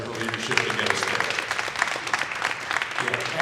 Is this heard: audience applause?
yes